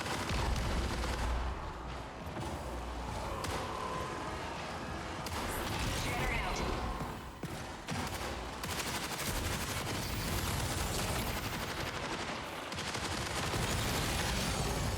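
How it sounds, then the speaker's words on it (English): Shotgun blasts in the shooter game Marathon on a hardcore map, heavy booming shots scattered through a loud, busy mix of combat noise. "let's see the shotgun"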